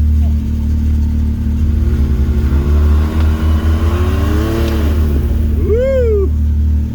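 Off-road vehicle engine revving in low range on a ranch drive, rising and falling in steady pitch sweeps over a constant drone, with a sharp higher whine near the end and wind noise throughout.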